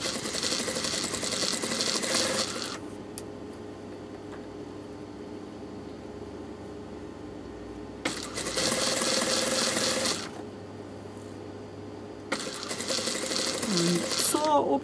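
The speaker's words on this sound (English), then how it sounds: "you are sewing towards the right hand side closest to the edge" Sewing machine stitching an invisible zip near the fabric edge, its steady rapid whirring running in three bursts separated by quieter pauses.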